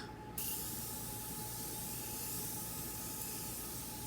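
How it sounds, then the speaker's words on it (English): A steady spray hiss from Morphe Continuous Setting Spray starts after a brief pause and continues evenly for several seconds, close to the microphone, with no talking. "So I'm going to go in with the Morphe Continuous Setting Spray."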